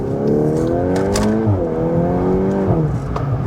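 A Volkswagen Golf R 8.5 with an Akrapovic-modified exhaust revs hard, its engine note climbing and falling in loud sweeping pitch changes, close and prominent with no talk over it.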